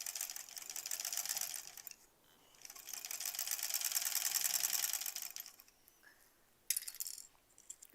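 A sewing machine stitches the border of a granny squares quilt in several bursts, a fast close rattling whir that stops and starts with short quiet gaps.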